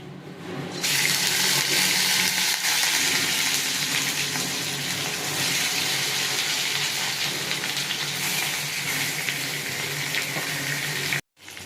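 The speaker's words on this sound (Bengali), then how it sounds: "এবার আমি কড়াতে তেল দিয়েছি, তেল গরম হয়ে গেছে, মাছগুলো ভেজে নেব।" Rohu fish pieces fry in hot oil in a kadai. A loud, dense hissing sizzle bursts in suddenly, holds steady and close throughout, then cuts off briefly just before the end.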